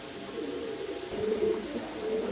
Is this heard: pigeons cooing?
yes